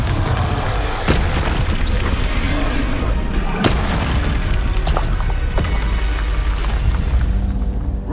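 A Bombarda blast spell detonates in Hogwarts Legacy amid dense magical combat, with heavy booms and sharp cracks landing loud and close over a constant rumbling bed of battle noise.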